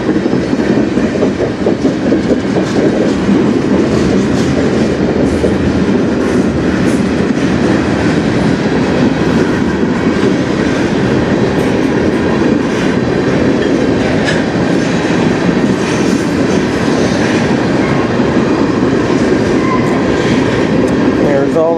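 A freight train loaded with potash rolls past close by, a loud continuous rumble with rhythmic wheel clatter that holds steady throughout without letting up.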